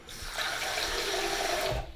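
Tap water pours steadily into a Brita Aluna jug with its filter taken out, a close, even rushing splash lasting about a second and a half before it stops abruptly.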